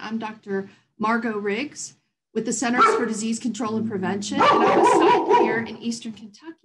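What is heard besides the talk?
dog barking in the background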